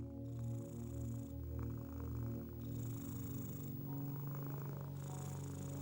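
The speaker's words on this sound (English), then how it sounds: "As you listen, a soft purring sound begins." A cat purrs steadily and close by, a low continuous rumbling vibration rising and falling gently with each breath.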